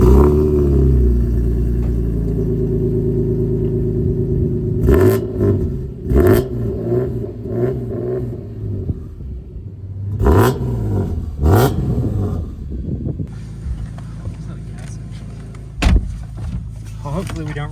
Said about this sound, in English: Do you mind if we start it up, get some revs and go for a ride?